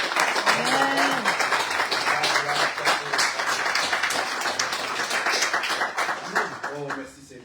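A church congregation applauds the prophet, sustained loud clapping and cheering filling the room, with voices calling out over it before it fades at the end.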